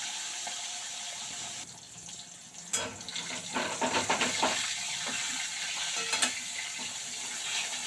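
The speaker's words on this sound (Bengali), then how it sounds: "এবার আমি উল্টে অন্য দিকটা ভেজে নেব।" Fish frying in oil in a kadai, a steady close sizzle and crackle with a few louder spatters and scraping bursts as the pieces are turned, no talking.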